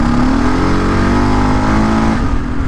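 A Gen3 Kawasaki KLR 650 motorcycle fitted with a Lexx exhaust pipe idles and revs steadily up close on a 24-degree cold morning, giving a constant loud engine drone with a slight rise in pitch.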